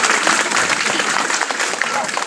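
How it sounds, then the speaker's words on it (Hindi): Audience at a workshop on SC/ST/OBC rights and legal information applauds steadily, a dense wash of clapping hands that holds at an even level for a couple of seconds. "जोरदार एक बार ताली हो जाना चाहिए"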